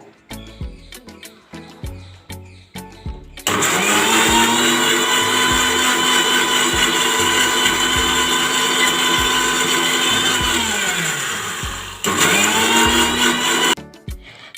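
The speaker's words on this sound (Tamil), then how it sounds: "இந்த ஸ்டேஜில் மீதி இருக்கிற அந்த ஆயிலையும் சேர்த்துட்டு நல்லா பிளெண்ட் பண்ணிக்கோங்க" A home mixie blender whirs loudly as it blends mayonnaise with added oil, a steady motor roar running about eight seconds, briefly dropping, then resuming before stopping, preceded by clinks and handling sounds.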